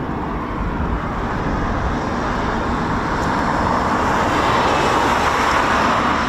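A Eurofighter Typhoon FGR4 jet of 41 Squadron at RAF Coningsby gives off a steady, broad engine roar that swells gradually and stays continuous, heard from some distance without any talking.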